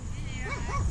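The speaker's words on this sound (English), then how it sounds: "Hi, babies. Little doggies." Puppies let out short, high yips and whimpers up close, while someone talks softly over them.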